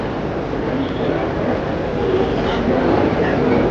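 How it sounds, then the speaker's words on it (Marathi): A local train rumbles steadily at a crowded station, a broad low roar that grows slightly louder toward the end, with faint voices mixed into the din. "हे बघा, आपली पण ट्रेन आलेली आहे विरार"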